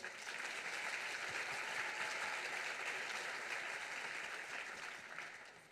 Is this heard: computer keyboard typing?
no